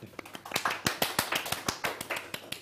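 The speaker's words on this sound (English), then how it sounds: "As you can tell, that was 3 people clapping." Three people clap in quick, irregular sharp claps, close and fairly quiet, with no talking.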